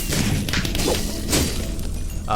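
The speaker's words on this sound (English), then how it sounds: "fireworks arrow to take care of some of the groups there" A fireworks arrow shot at groups of zombies in the Minecraft Dungeons video game, giving loud crashing bursts and whooshes over continuous game noise, with no voices.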